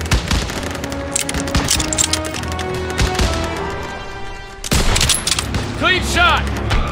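Dense gunfire and bursts of automatic weapons fire in the Call of Duty: WWII video game, a sustained loud fusillade with booms and cracks, shouted combat voices mixed in.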